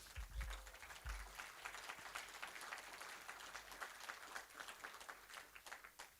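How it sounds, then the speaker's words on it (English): Conference opening audience giving applause, a sustained spread of many hands clapping with some low thumps and handling bumps early on, steady and moderately distant. "if I could ask you for a small and slow clap"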